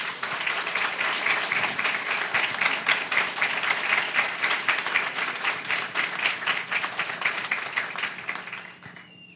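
A council chamber audience in Osasco, Brazil, gives sustained, dense applause at a solemn session honoring a pastor, steady for several seconds before tapering off at the end.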